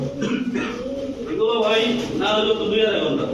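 Pakistani Teddy, Golden and Chila pigeons coo close by in repeated soft, throaty rolling phrases, with people talking in the background.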